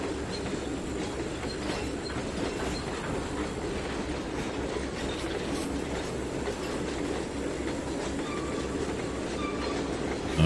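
A train locomotive picks up speed on the rails in the Trainz 2019 railway simulator, a continuous rumbling roll with faint clickety-clack and wheel noise, steady and fairly loud throughout with no talking.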